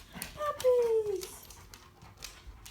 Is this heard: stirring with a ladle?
no